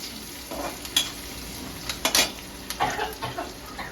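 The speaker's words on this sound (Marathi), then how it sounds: "अब कांदा भून जाएगा बढ़िया से" Onion frying in a pan with dal fry ingredients on a home stove, a soft steady sizzle broken by occasional stirring scrapes and clinks, close and moderately quiet with no talking.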